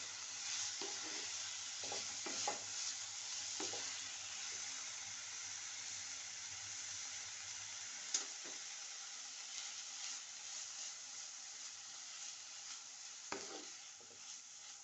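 Fried pumpkin peels tossed with chaat masala sizzle steadily in a pan while a spatula scrapes and stirs them now and then; the sound is close but fairly quiet, with no talking.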